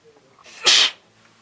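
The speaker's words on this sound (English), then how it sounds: "Oh, I gotta sneeze." A single sharp human sneeze, loud and close, standing alone in a quiet indoor recording session with only faint room sound before and after.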